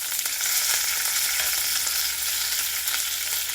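Curry leaves frying in hot oil for a Kerala egg roast, giving a steady, close crackling sizzle with sharp popping bursts and no voice over it.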